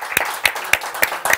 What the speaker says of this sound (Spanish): les quiero dar un aplauso